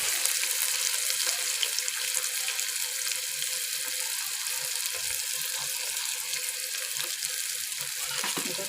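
Onions fry steadily in a hot pan for a home-cooked curry, a dense, continuous close-up sizzle with faint stirring and no voices.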